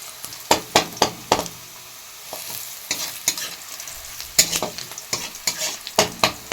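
Sautéing in a pan just before ponnanganni greens go in: a steady frying sizzle broken by sharp, irregular scrapes and clacks of a spoon stirring against the pan, with no talking.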